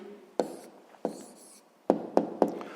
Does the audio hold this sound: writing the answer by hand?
yes